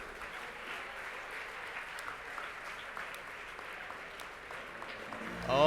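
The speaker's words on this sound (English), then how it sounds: "give a round of applause to this lady" Quiet, steady applause from an audience at a students' conference, continuous clapping from a crowd heard at a distance, with a louder burst at the very end.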